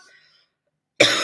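A single short cough bursts out suddenly and close after a moment of near silence, following faint talk.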